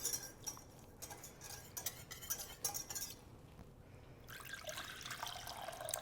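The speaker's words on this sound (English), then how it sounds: "we're going to add 3 cups of water. Add just a little bit at a time" Water is poured little by little into cornstarch in a bowl, giving intermittent splashing and trickling with light clinks, then a steadier, fuller pour toward the end.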